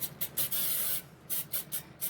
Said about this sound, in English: I'm going to spray it lightly